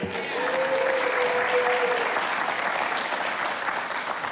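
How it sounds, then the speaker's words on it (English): Loud, sustained applause from a breakfast audience on a cold December morning fills the space for over four seconds, a dense wash of clapping with a brief whistle near the start. "how about a big round of applause for Village Inn?"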